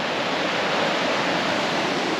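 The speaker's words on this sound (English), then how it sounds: "And there's River Etive itself." The River Etive in Glencoe, Scotland rushes past as a steady, close broadband roar of flowing water, unbroken and fairly loud throughout, with no voices.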